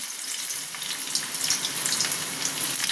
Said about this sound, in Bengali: তার জন্য আমি আদা আর রসুন কুচিটা দিয়ে দিলাম।